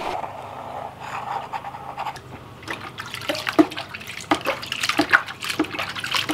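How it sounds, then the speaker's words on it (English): A snuffer bottle sucks water and fine gold concentrates out of a gold pan, giving close, irregular wet slurping and gurgling bursts with drips throughout. "I'm going to suck that up with a snuffer bottle"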